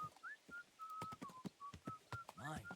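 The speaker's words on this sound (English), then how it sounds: "Stop that whistling." A character in Kingdom Come: Deliverance II whistles a wandering tune, a run of clear, fairly quiet notes, with a short spoken remark briefly overlapping near the end.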